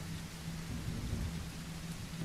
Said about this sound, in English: When rain arrives, notice how the surface receives each drop